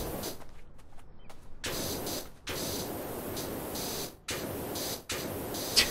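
Pressure washer spraying on a monk temple roof in Powerwash Simulator, a steady hissing rush of water that cuts off and restarts in several bursts with short silent gaps between.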